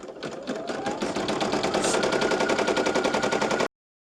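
A sewing machine stitches a hooded towel in a fast, even rapid-fire rattle that starts up and runs steadily, loud and close, then cuts off abruptly.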